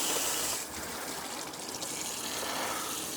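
Warm tap water runs steadily while hands are washed at a donkey sanctuary, a continuous gushing flow close by with a slight shift in level partway through.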